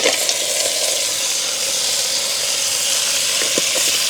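Crab pieces dropping into a clay pot of sautéing onions and green chillies in a village kitchen, giving a steady, close sizzling hiss with light stirring and brief crackles near the end, no talk.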